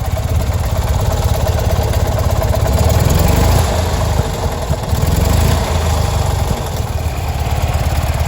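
Old Fiat 126 engine idling roughly and unevenly, a loud close buzzing drone with an uneven rhythm throughout.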